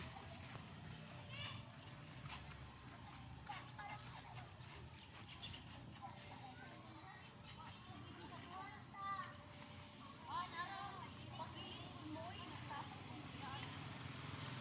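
Children play outdoors in the afternoon near the sea, their distant voices and shouts mixing with splashing and general outdoor bustle, and adults talk nearby.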